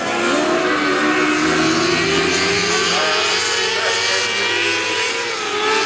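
A field of race cars at Gulf Coast Speedway charging through turn 1 under green flag racing, a loud, sustained, overlapping engine roar with shifting pitch from several cars passing close by.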